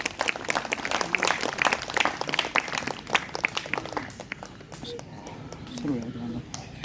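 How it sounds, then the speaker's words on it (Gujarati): A crowd at a Hanuman kirtan aerobics gathering claps loudly in quick, dense bursts that gradually thin out, with a voice speaking over the end. "જોરદાર તાળી."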